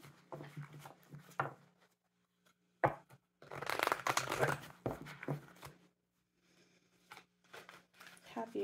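Tarot cards riffle and slap in several bursts of shuffling, with pauses between and a low hum underneath.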